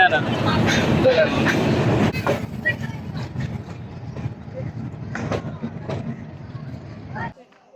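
A commuter train pulls into Narayanganj railway station with a loud, dense rumble and clatter that eases after a couple of seconds, then scattered knocks and clunks before it cuts out, while a voice speaks over it.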